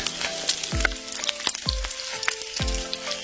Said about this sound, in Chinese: 拌匀的米饭下锅，火力控制在中火的状态